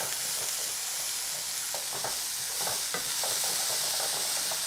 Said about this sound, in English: Stir this in. Cook it for another 2-3 minutes, just till the peppers are soft.